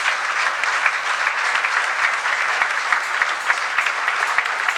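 Congregation clapping at a church service, a continuous dense patter of many hands with some sharper individual claps standing out, steady and fairly loud throughout.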